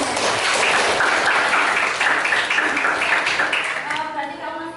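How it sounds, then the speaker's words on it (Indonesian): Applause from a class of students in a school classroom during a mathematics lesson, a steady dense patter of clapping that fills the room and fades slightly toward the end, with no speech over it. "Oh ya, terima kasih tepuk tangan."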